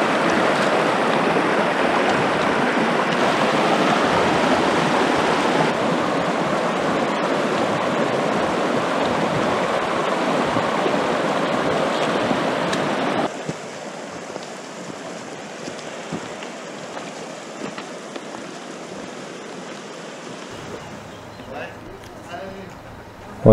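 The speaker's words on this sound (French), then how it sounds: "piste, on va longer la rivière." A river rushes steadily beside a mountain hiking trail in the Alps, a loud broad wash that drops to a quieter flow partway through, with voices now and then.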